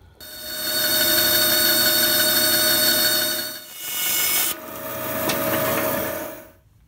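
A bandsaw cuts through a section of cherry wood, a loud, close, continuous rasping whine that holds steady for several seconds, dips briefly, then resumes until the blade clears the cut.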